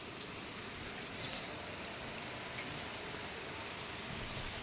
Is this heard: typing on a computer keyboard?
no